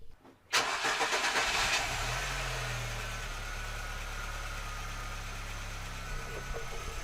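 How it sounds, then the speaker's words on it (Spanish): A car engine cranks briefly, catches with a loud surge and then settles into a steady, even idle that continues close by and unbroken. "Y vamos a echar a andar el motor."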